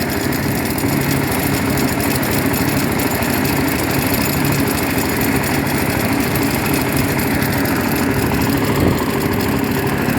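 A walk-behind tractor fitted with a mulcher attachment runs steadily and loudly on its first outing, a continuous close engine drone with rough mechanical vibration and no pauses throughout.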